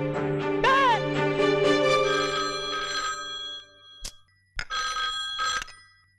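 A telephone rings with a trilling electronic bell, a long burst followed by a short gap and two more bursts, loud and close.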